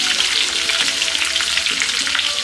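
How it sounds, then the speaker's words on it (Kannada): Two medium onions, sliced, fry in hot oil in a pan with a constant dense sizzle and crackle, close and loud, with light stirring noise and no voices. "ಇದೆಲ್ಲ ಫ್ರೈ ಆದಮೇಲೆ ಇದಕ್ಕೆ 2 ಈರುಳ್ಳಿ ಸ್ಲೈಸಾಗಿ ಕಟ್ ಮಾಡ್ಕೊಂಡಿರೋದನ್ನ ಹಾಕೋತಾ ಇದ್ದೀನಿ."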